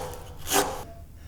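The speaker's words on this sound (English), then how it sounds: "So router plane is really good here. So I'm going to bring the blade up, so we're taking off the peaks to start with." A router plane skims a hand-cut wood dovetail halving joint with a single short, close shaving swipe that rises and fades within a second, alone without speech.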